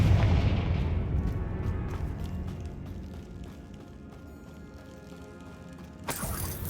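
The Confringo spell in Hogwarts Legacy fires off as a loud booming explosion at the start, then a long rumbling decay with scattered crackles and clatters, and another sharp blast near the end.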